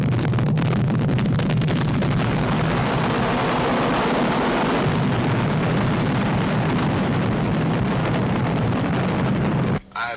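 A missile launch roars continuously as a loud, dense, broadband rush, steady and overwhelming for nearly ten seconds before cutting off abruptly.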